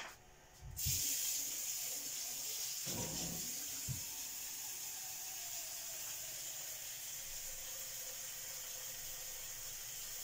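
Water runs steadily from a tap into a container, a constant close hiss with a few knocks near the start.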